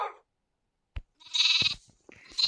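A goat bleats in two short, bright calls separated by a pause, with a faint brief knock before them, fairly close and otherwise quiet.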